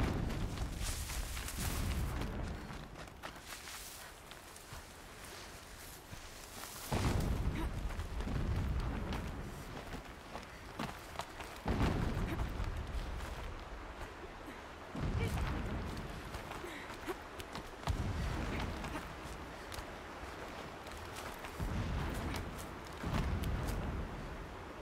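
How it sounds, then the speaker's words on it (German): Deep distant explosions from the video game Horizon Zero Dawn boom repeatedly, several heavy low rumbling blasts spaced a few seconds apart amid a noisy game soundscape. "Entfernte Explosion. Ignoriere sie."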